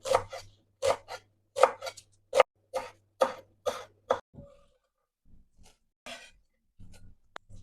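A knife chops wild garlic (ramsons) finely on a board: about ten sharp, evenly spaced knocks, then a pause and a few sparse, quieter taps near the end.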